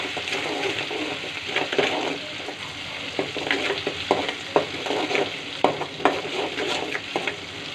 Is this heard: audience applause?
no